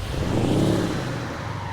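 A video game Scania R730 V8 truck with a modded downpipe exhaust sound rumbles and revs steadily at close range, a deep droning hum holding throughout with no other sounds.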